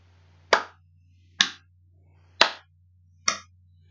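A teacher claps hands four times during a second-grade maths counting exercise in a classroom: sharp, close, evenly spaced claps about a second apart, alone, with near silence between them.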